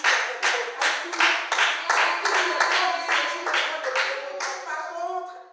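A church congregation claps together in steady, rhythmic bursts, loud and close, with voices mixed in, the applause thinning toward the end.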